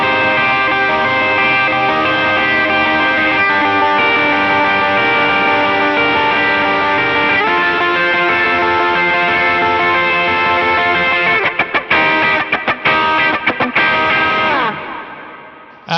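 A distorted electric lead guitar riff from a song, played close to tempo with effects, loud and continuous for most of the stretch before breaking into choppy stops near the end.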